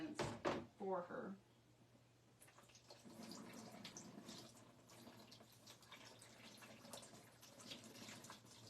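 After a couple of brief knocks, a water tap runs steadily at low level to rinse a freshly marbled item, a continuous soft hiss.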